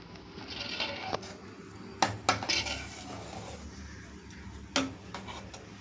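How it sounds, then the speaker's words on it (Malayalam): Tomato mixture being stirred in a cooking pot, with soft scraping and several sharp metallic clinks of a spoon against the pot, close and intermittent over a quiet kitchen background. "പതുക്കെ ഇളക്കി കൊടുത്തുകൊണ്ടേ ഇരിക്കണം."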